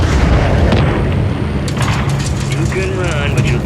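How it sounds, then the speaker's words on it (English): Missile explosions in the video game Call of Duty MW3, with a B-52 bombing run, rumble as a dense, continuous low boom under loud battle noise and overlapping radio chatter. "Missiles incoming."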